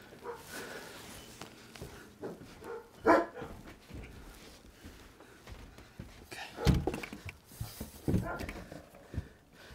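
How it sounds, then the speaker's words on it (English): A three-legged dog gives a few sharp barks that come and go, close and loud at moments, with people talking nearby and scuffling movement in the background. "Did that three-legged dog run behind you?"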